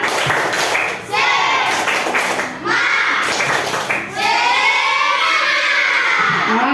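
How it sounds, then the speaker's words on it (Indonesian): A group claps together in a quick rhythmic Indonesian spirit-clap pattern, mixed with loud children's voices shouting and chanting along. "kita mau tepuk semangat. Tepuk semangat."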